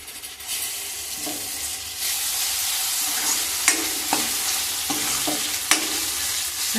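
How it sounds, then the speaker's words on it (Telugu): Chopped onions and ginger-garlic paste fry in a pan for a potato and brinjal curry, giving a steady close sizzle with occasional sharp scrapes and clicks of stirring. "ఉల్లిపాయ ముక్కలు అల్లం వెల్లుల్లి పేస్టు పచ్చివాసన పోయే వరకు ఫ్రై చేసాం"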